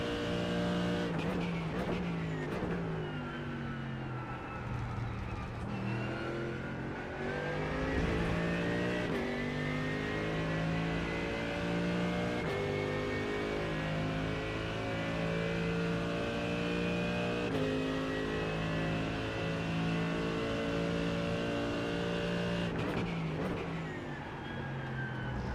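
Race cars lapping Interlagos in the iRacing sim, a steady loud engine drone that climbs in pitch through the gears, with short shift dips and an occasional faint tire squeal.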